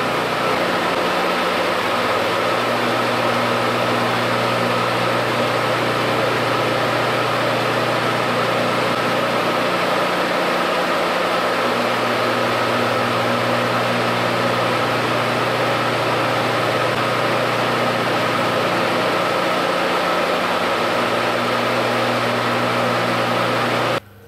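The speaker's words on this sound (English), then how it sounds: "listen how fast the motor starts now" An electric motor runs steadily on a home-built phase converter with one capacitor in circuit, a loud continuous hum with a low droning tone that rises and falls in slow cycles, no voices.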